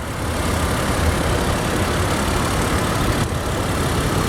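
A 2004 Chrysler Crossfire engine runs steadily under the hood, with a single serpentine belt driving the alternator, AC compressor, power steering pump and water pump, producing an even, dense mechanical hum close by without talk.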